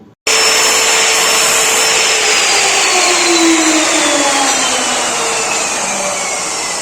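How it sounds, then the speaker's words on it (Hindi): Metal sheets being welded or cut for a handmade havan kund in a workshop give a loud, continuous roaring hiss that starts abruptly and holds steady, with a faint descending whine running through it. "अब वेल्डिंग की प्रक्रिया शुरू हो गई है।"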